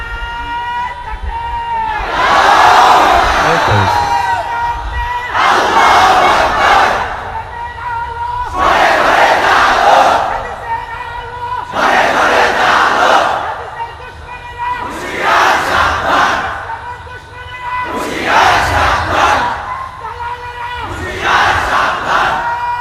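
A large crowd chants slogans in loud, rhythmic bursts, about seven strong call-outs separated by short pauses, with faint traffic noise underneath.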